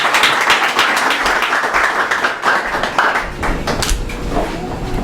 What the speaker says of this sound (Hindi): आइए जोरदार तालियां खुदा के बंदा के लिए